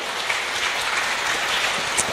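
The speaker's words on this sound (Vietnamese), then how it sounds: "hãy vỗ tay cảm ơn Đức Chúa Trời toàn năng" Church congregation applauds in thanks to God during a Vietnamese Protestant sermon, a steady wash of many hands clapping at moderate volume throughout, with no talking over it.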